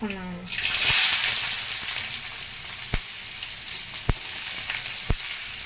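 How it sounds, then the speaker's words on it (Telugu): Onions fry in hot oil with bay leaf, cinnamon, cardamom and cloves, giving a loud, steady sizzle that flares at the start, with a few sharp knocks from stirring. "దోరగా వేగాలండి ఉల్లిపాయ"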